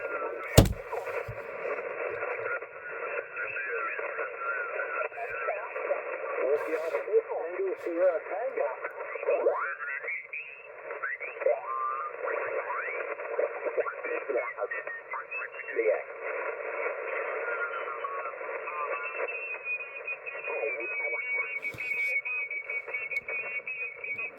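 An amateur radio transceiver tuned across the 40 meter band at a field day station puts out a steady band-limited hiss and warbling, sweeping tones and chirps, loud and continuous for about 24 seconds.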